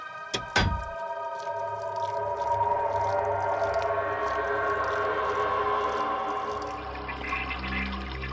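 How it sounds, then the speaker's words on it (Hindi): Water gushes steadily from an open bath basin tap in a basement, a sustained rushing hiss after a sharp thunk at the start, continuing evenly with no talking. "किसी ने बाथ बेसिन का नली खुला छोड़ रखा है"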